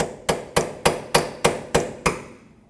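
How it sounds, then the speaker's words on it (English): Seven sharp metallic hammer blows on a chisel staking a hub nut on a 2018-2023 Subaru Crosstrek rear wheel bearing, evenly spaced and close by, each ringing briefly before the next strike. "Use a chisel and a hammer."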